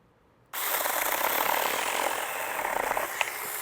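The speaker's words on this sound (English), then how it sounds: "see what this little mini saw can do" A small mini chainsaw snaps on abruptly and cuts straight down through a large tree branch, a loud, buzzing, high-revving whine holding steady under load for about three seconds.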